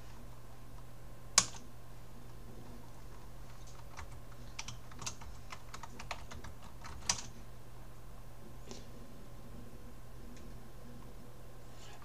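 Soft, sparse clicks of typing on a computer keyboard while entering an Ubuntu terminal command, a few louder key strikes standing out against a quiet, steady hum.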